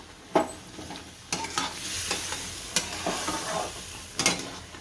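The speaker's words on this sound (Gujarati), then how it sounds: "અને ભેળવી નાખશું બધું" Semolina halwa stirred and mixed in a pan with milk added, a spoon scraping and swirling through the thick mixture in soft irregular strokes over a faint sizzle, close and moderately loud.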